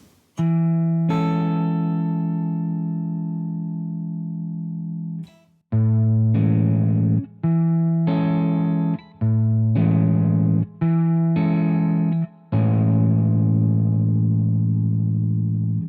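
Electric guitar chord voicings with a spread major 6th at the top ring out one after another, a long sustained chord first, then several strummed chords with brief gaps between them, clean and bright.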